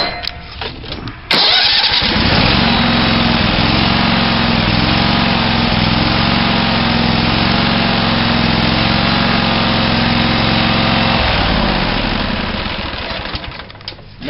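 A Husqvarna lawn mower engine is pulled into life with a short starting burst, then runs loud and steady close by for about twelve seconds before easing off at the end, with no talk over it.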